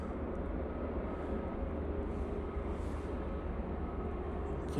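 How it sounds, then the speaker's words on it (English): A Ryanair airliner arriving at Manchester Airport from Dublin produces a steady, fairly faint low rumble of jet engines at a distance, continuous throughout with no talking. "Next in will be the Ryanair coming in from Dublin."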